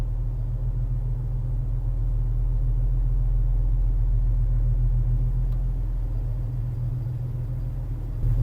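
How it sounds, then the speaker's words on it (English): A car's exhaust rumbles steadily at idle, a deep, continuous low drone that stays constant and close throughout, with no talking. "Hopefully you can hear me over the exhaust."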